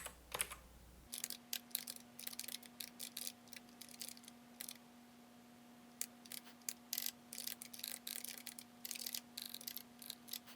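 Rapid typing on a computer keyboard while writing PHP code in a terminal text editor, with irregular bursts of clicking keystrokes and short pauses, close and clear over a faint steady hum, no talking.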